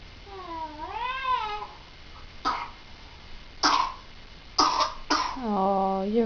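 A cat gives a couple of drawn-out meows, then several short, harsh coughs spaced apart, and ends on another meow, all fairly close indoors.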